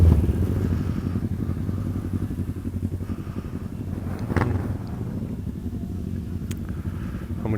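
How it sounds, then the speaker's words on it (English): Large-capacity motorcycles at a BMW breakfast ride in the Philippines, engines idling and rumbling steadily nearby, with a brief louder rev partway through over constant low mechanical drone. "this particular event is for only large capacity motorcycles."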